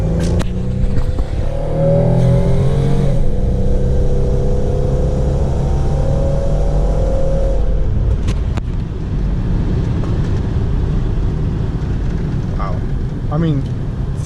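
A car with a custom DIY fenderwell cold air intake accelerates hard at three-quarter throttle, its engine note climbing through the gears and then easing off to a cruising rumble. A person talks over it near the end.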